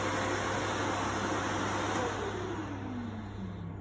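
A Festool dust extractor runs from a cordless power station, giving a steady loud whooshing drone with a low motor hum, its pitch sliding down slightly as it winds along.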